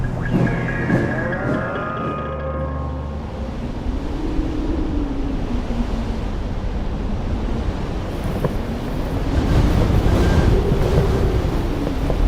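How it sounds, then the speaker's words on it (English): Strong wind sweeps over sea ice in a loud, constant roar that rises and falls in broad gusts and swells louder toward the end, with low rumbling throughout and no speech. "The wind on the ice has become stronger, and Eugene Brouwer is not taking any chance"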